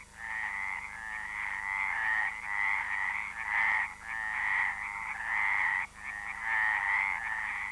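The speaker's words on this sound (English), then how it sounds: "There are Peretz's frogs here too. The males fight each other in between calling for mates" Pérez's frogs call continuously in a wild European pool setting, with repeated bursts of harsh, rasping croaks in a steady rhythm, loud and close, with brief gaps between phrases and no talk.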